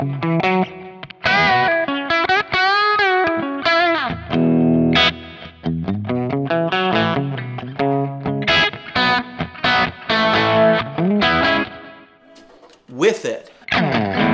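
Electric guitar with a humbucker pickup played through a Kemper with upper-mid EQ boosts, distorted bright riffs and bends, loud and continuous with brief gaps near the end.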